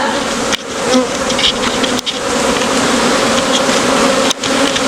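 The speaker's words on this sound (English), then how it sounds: "you can see the bees have done a masterful job of building their hive" A swarm of bees in a hive drones loudly and continuously up close, a dense buzzing hum with individual bees whining past and brief knocks or bumps cutting through.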